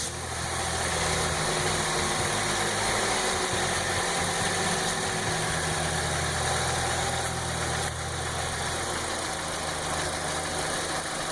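A Saturn Vue with a 2.2 Ecotec engine idling after a throttle body cleaning, a steady, smooth, fairly loud mechanical hum with a constant low drone, recorded up close with no talking.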